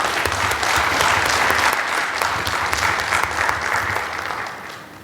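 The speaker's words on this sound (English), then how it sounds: "Please give them a round of applause." A conference audience applauds the panel of Chris Long, Jim Roberts and Dylan Rafaty. The applause is dense and steady throughout, loud and sustained, and tapers slightly at the very end.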